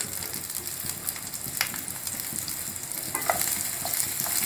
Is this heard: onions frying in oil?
yes